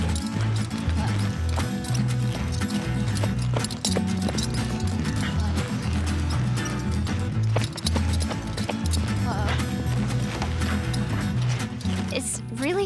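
A good, fast horse named Belle running out on an Alabama ranch, her hoofbeats pounding in a steady clip-clop rhythm under a loud, busy mix that stays dense and full all the way through.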